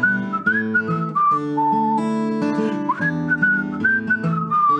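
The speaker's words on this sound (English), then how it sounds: "Whistle." A continuous melodic whistled tune over a sustained musical backing, at a toddler group session, steady and fairly loud for the whole stretch with no talking.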